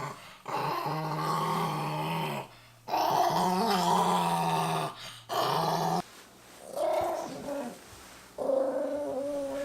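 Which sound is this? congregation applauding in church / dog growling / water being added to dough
dog growling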